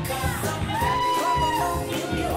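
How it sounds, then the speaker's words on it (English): Wedding guests cheer and whoop for the flower girl and a young boy, loud shouts and high calls over a lively crowd with music or voices running throughout. "Nice round of applause for the cutie pies."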